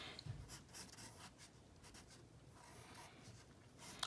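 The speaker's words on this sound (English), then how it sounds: "And then I can erase the inside of where his thumb would be." Pencil scratching and rubbing on paper while drawing a cartoon hand and erasing inside the thumb, a soft continuous close scraping with a few light taps and strokes.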